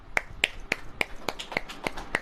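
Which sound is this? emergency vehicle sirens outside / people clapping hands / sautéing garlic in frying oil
people clapping hands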